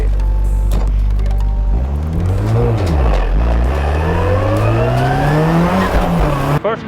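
A Nissan Silvia PS13 drift car revs hard and accelerates up through its gears, loud and close, the engine note climbing in repeated sweeps with some tire squeal before cutting off abruptly near the end.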